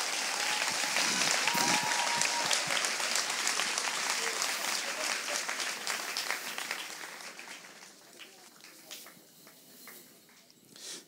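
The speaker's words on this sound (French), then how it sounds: "On acclame la parole de Dieu, frères et sœurs" A church congregation in Gabon breaks into sustained applause during a sermon. The dense clapping is loud at first and thins gradually into scattered claps with a few voices.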